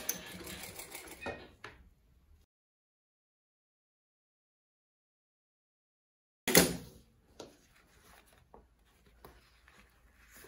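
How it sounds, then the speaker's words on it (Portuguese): A sewing machine stitches synthetic fabric with a long stitch, running in a quiet, fast rattle for a couple of seconds before stopping; after a pause, faint handling clatter follows. "vou costurar aqui na peça"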